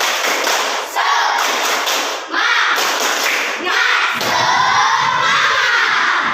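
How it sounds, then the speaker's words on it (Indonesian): Classroom children doing a rhythmic spirit clap, a loud, busy burst of clapping thuds mixed with excited children's shouting and chanting voices, continuous for several seconds with brief dips. "Tepuk semangat."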